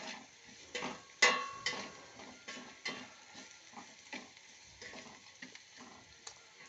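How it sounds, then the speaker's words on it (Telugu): Onion and green chillies frying in a little oil, heard as a soft sizzle broken by repeated spatula stirs and light clicks against the pan, close and fairly quiet. "అందుకని నేను ఇలా కొంచెం నూనెలో వేపుతున్నాను"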